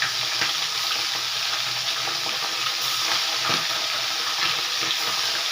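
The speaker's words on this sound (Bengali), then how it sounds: "এবারে আমি আমুদি মাছগুলো লাল লাল করে সবগুলো ভেজে নেব" Amudi fish frying in hot oil in a pan on a gas stove, a dense continuous sizzle and crackle, close and loud, steady throughout with no speech.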